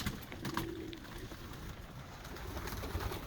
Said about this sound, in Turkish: Her yerde güvercin yumurtası ve güvercin yavruları.